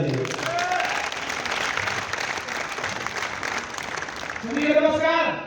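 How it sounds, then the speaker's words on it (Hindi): Loud, sustained applause from a crowd at a team achievers' event, a dense wash of clapping that swells near the end while voices rise underneath. "राजेंद्र भाटी जोरदार ताली बजा दीजिए।"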